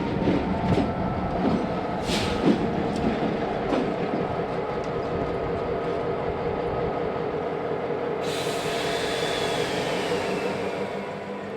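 A CSX freight train rolls steadily past up close in an urban rail setting, with a continuous rumble, rhythmic wheel clatter and occasional clanks, and a faint squeal rising near the end.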